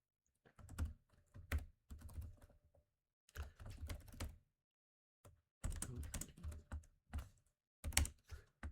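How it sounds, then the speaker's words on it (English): Quiet bursts of typing on a computer keyboard, clusters of soft key clicks separated by short pauses, close and faint. "We're just typing it in again"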